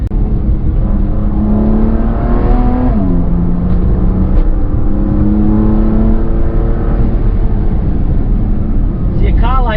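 A BMW M2 engine revs up and settles while driving, its tone climbing and falling in smooth sweeps over steady road and cabin roar, loud and close throughout.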